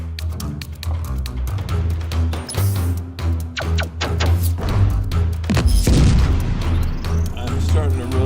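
Gauss gun fire in the space game The Captain: a dense run of heavy booming shots and thuds over a constant low game hum, loud and continuous with several sharper blasts near the middle.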